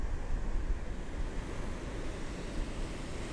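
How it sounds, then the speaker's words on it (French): Steady surf washes onto Agonda Beach in Goa, India, a continuous broadband roar of breaking waves with wind buffeting the microphone and no voices. "Et voici Agonda Beach, une très belle plage."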